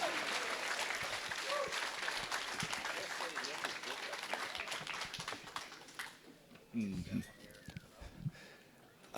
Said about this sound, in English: We thank you and your family, Bruce, with this round of applause.